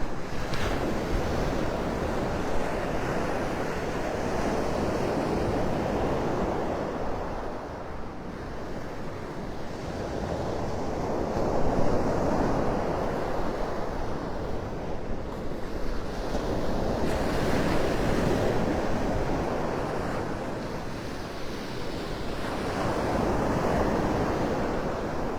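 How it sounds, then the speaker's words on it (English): Gulf of Mexico surf rolls onto the beach beside Naples Pier in Florida, steady broadband wash swelling and receding every few seconds, with wind buffeting the microphone throughout and no voices. "Like the sound of the Gulf."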